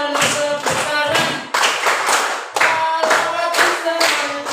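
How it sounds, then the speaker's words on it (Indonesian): Elementary school class clapping hands together in a sung clapping game, rhythmic groups of claps with short pauses between them, close and fairly loud. "Kalau di sana tepuk tangan."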